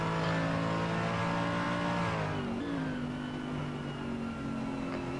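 A Mercedes race car in sim racing at Road America, its engine droning loud and close, the pitch climbing, then dropping sharply on a gear change before settling into a steady hum.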